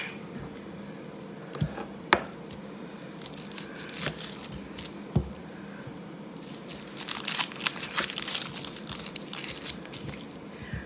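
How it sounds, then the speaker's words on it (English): An onion being cut in a home kitchen gives quiet crunching and crinkling knife strokes with a few sharp taps on the board, denser toward the end, and no talking. "we'll cut up this onion"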